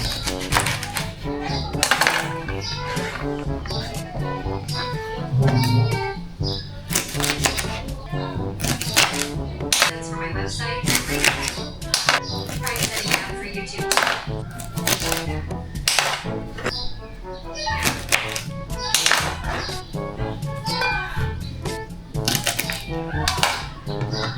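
String beans (sitaw) being snapped and cut by hand for sinigang na pata ng baboy, with repeated sharp clicks and taps on a board, near and loud, with kitchen clatter and someone talking throughout.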